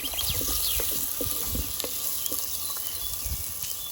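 Onions frying and being stirred in hot oil for a Telugu Killalu fish pulusu, giving a steady close sizzle with soft scraping stir strokes through the mix.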